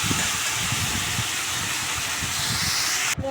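Food sizzles in hot oil in a home kitchen as a loud, steady hiss that holds evenly throughout, with no talking, then cuts off abruptly at the end.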